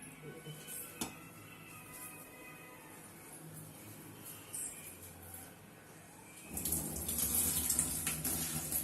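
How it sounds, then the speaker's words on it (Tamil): Quiet room tone, then cooking water from boiled plantain suddenly gushes into a sink and keeps running loudly to the end. "எல்லாம் சிங்கில் ஊற்றிடலாம்"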